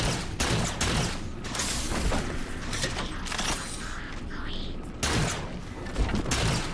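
Grenade blasts and gunfire in Halo 4 land as several heavy booms and bursts in quick succession, loud and close, with a voice talking over them.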